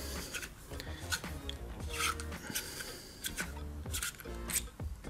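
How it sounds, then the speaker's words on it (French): The air-flow ring of a Geekvape Zeus RTA is unscrewed by hand, producing close, repeated scraping and ratcheting rasps of metal threads in an irregular rhythm. "Ici on va dévisser notre anneau d'arrivée d'air."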